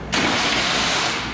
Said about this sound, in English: Okay, I'm gonna start it and try to get the starter back.